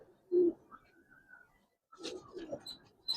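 A Giribaz pigeon in a loft gives a short, low coo near the start, followed by faint rustling and then people talking nearby.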